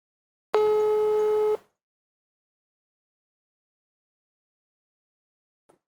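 A telephone call tone sounds once as a steady electronic burst lasting about a second, then the line falls silent until a faint click near the end.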